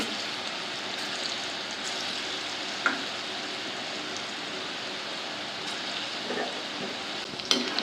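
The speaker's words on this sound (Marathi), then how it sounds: "वाफाडे तळताना एकदम चांगले लाल तळून घ्यायचे म्हणजे आतून कच्चे राहत नाही" Chana dal vadas deep-frying in hot oil give a steady, close sizzle with a faint bubbling hiss throughout and a few soft pops.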